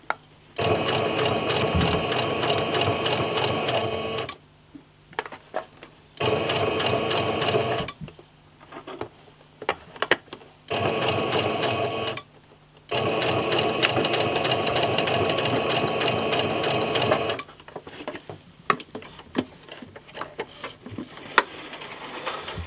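A sewing machine stitches fabric in several loud, steady bursts of rapid needle chatter, each a few seconds long, separated by short pauses with faint handling clicks. No one speaks.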